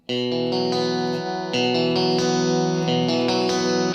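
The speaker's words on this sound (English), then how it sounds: "Here's with the compressor." An electric Strat-style guitar played through a strong compressor rings out in loud, close, evenly sustained chords with snappy attacks. It plays alone with no talk.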